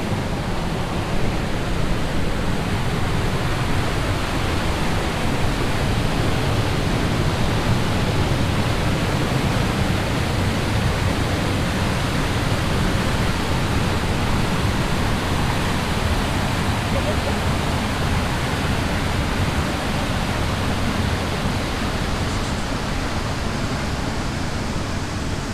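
Barak Waterfall thunders with a steady, dense roar of rushing water that fills the whole scene at close range, unbroken and constant throughout.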